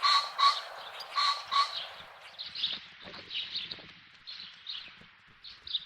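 A common pheasant cock's harsh, metallic crowing calls repeat loudly at first on Wangerooge island, then continue as fainter, scratchy calls among other bird sounds.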